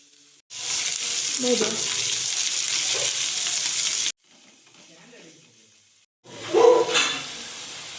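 Chicken sizzling with ginger garlic paste in a pan, a steady loud frying hiss broken by short pauses and clinks of stirring, with faint voices in the background.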